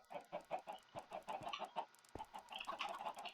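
Minecraft chickens cluck in a quick, irregular series of close, clear clucks with a few brief game clicks between them.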